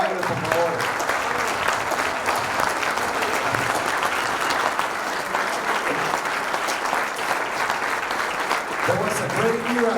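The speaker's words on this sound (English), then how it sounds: "we ask everyone to play 1 minute of applause in the memory of marvelous Marvin Hagler" A convention audience at a boxing gathering gives sustained, dense applause for a full ten seconds, steady and loud throughout, with a voice briefly speaking over the crowd near the start and again toward the end.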